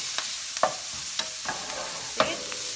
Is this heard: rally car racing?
no